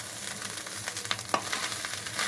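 Fish eggs frying in a pan, a faint steady sizzle with light intermittent scrapes and taps of stirring, no talk.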